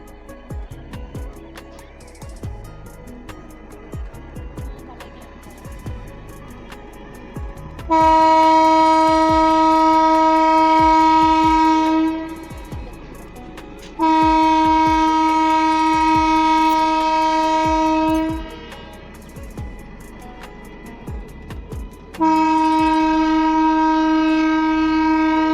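A passenger train pulls slowly out of a station, its loud sustained horn sounding three long blasts over rhythmic, evenly spaced clacks of wheels crossing rail joints.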